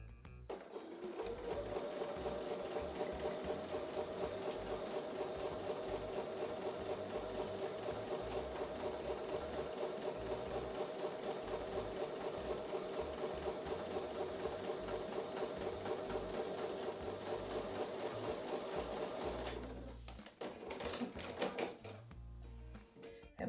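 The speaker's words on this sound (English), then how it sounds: "So I'm going to take that to the sewing machine." Sewing machine stitching a quilt block seam with a 1/4 inch allowance, a steady close mechanical whir with a fast even needle rhythm running for about twenty seconds, then stopping with a few clunks.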